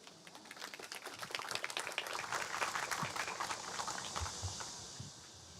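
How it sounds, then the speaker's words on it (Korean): Audience applause at an outdoor unveiling ceremony for a memorial plaza, a broad wash of clapping that swells and holds steady for several seconds, with a few low thumps underneath. "큰 박수로 모시겠습니다"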